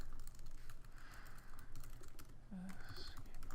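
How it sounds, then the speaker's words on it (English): Quiet, rapid clicking of typing on a computer keyboard in uneven bursts, fairly close, with faint background noise. "I'm typing these out while we're going. I'm worried it's going to be very clicky."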